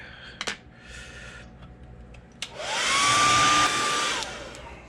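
A hair dryer dries paint on a crawfish-style fishing lure: a few sharp clicks, then a loud, steady blowing roar with a rising whine that holds for about two seconds before switching off.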